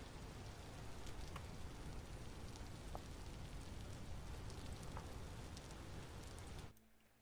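Rain weather in the Vintage Story video game pours steadily as a dense, even patter with scattered sharper drops, then cuts off abruptly near the end, leaving near silence.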